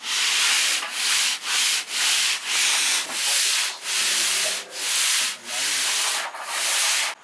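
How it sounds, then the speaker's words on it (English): Wet-and-dry 240-grit sandpaper smoothing the taper on a B-58 Hustler model aircraft, with about nine close, even back-and-forth rasping strokes in a steady rhythm and no talking. "sandpaper, wet and dry, and it just nicely smooths the taper that we want"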